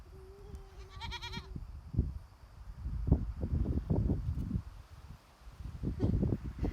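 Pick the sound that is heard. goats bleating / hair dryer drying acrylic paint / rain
goats bleating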